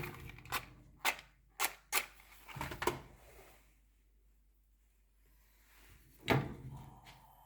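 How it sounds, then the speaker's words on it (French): A stove burner is lit to cook beef for boeuf miroton: a run of sharp igniter clicks, then a pause and a louder whoosh-like burst as it catches, heard close and quiet with no speech. "Et maintenant, je vais allumer mon feu"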